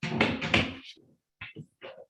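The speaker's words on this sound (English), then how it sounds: "That's my dog knocking on the window." Dog knocking on a window, a few separate dull taps with short gaps between them, fairly close, preceded by a louder burst of thumping and rattling.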